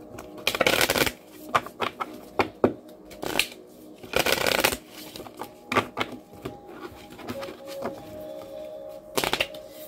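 Playing cards are riffled and shuffled in repeated quick bursts, crisp flutters separated by short pauses, close up.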